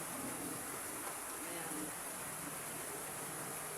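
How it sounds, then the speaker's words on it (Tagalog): Steady rain patters continuously on a corrugated metal roof, a dense even hiss that stays soft and unbroken throughout. "naririnig nyo naman yung patak ng ulan sa yero"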